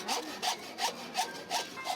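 A hand saw cuts through wood for a carving under a house eave workshop, six even back-and-forth rasping strokes in a steady rhythm, close and clear, no voices.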